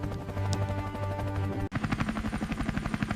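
A homemade wooden helicopter in flight, steady rotor chopping that cuts off abruptly partway through and then resumes as a rapid rhythmic thudding beat.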